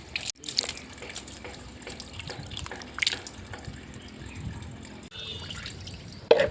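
Freshly picked backyard garden produce is rinsed in water to wash off soil, making close splashing, sloshing and dripping with a few handling knocks, without speech.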